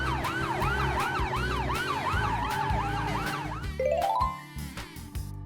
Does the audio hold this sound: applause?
no